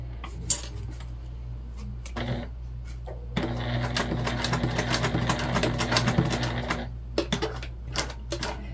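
A sewing machine cranked by hand during a mini-pack sewing project, giving a dense, steady run of fast mechanical clicking and whirring for about three seconds, close and clear, with scattered single clicks and taps before and after.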